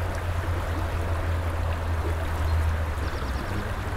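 Creek water runs steadily on a rainy morning, a constant close rushing and trickling wash with a deep low rumble and no break.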